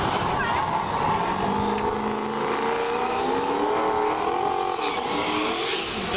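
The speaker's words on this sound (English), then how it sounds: "Another turbo small block. Ford Mustang 80s Fox body." An 80s Ford Mustang Fox body with a turbocharged small-block engine races at a drift and drag event, its engine roaring and revving with rising pitch, loud and sustained over crowd noise.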